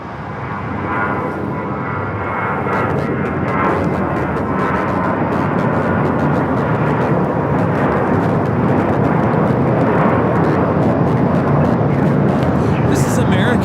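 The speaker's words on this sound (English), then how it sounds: "This is American Airlines 3243 taking off to Las Vegas on the A321." An American Airlines Airbus A321 takes off for Las Vegas, its engine roar building over the first seconds and then holding loud and sustained with a rumbling low end.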